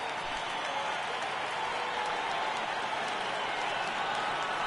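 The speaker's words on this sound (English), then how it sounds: "Crowd gets up for the 3-2." A stadium crowd in MLB The Show 18 cheers and applauds in a dense, steady roar, mid-distance and continuous for several seconds with no breaks.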